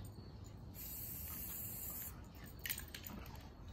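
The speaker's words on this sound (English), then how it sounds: "So you just spray paint these." Spray paint hissing from an aerosol can while coating pumpkins gold over cardboard, a sustained bright spray that runs for about a second and a half, then a few shorter bursts and handling noises, close and moderately quiet.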